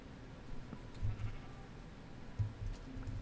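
Sheep bleating in an old version of Minecraft, two low, moderately faint bleats over quiet background sound, with no voices.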